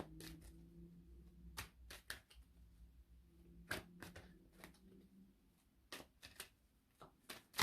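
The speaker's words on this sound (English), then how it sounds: "let me go ahead and get some more cards out here." Tarot cards being handled and shuffled, giving a run of quick papery riffles and soft slaps with short pauses between them, heard close and fairly quiet over a faint low hum, with no talking.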